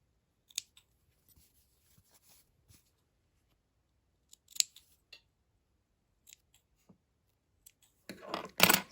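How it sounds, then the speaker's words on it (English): Scissors snipping threads on embroidered key fobs: a few sharp isolated clicks and snips spaced over several seconds, then a busier burst of cutting at the end, close and quiet with no talking. "Trim our threads."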